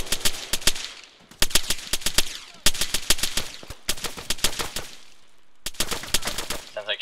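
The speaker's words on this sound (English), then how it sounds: "Sounds like shooting from inside the left building." Automatic gunfire from inside a building in the military shooter Arma 3, loud rapid bursts of shots separated by short pauses, several volleys one after another.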